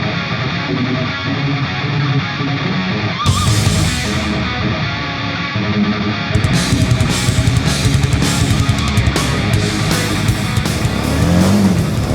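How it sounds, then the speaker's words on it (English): A 2015 Harley-Davidson Street 750 motorcycle engine revs and runs loudly up close, its throaty note rising and surging throughout, with rougher bursts in the second half. "This is the 2015 Harley-Davidson Street 750."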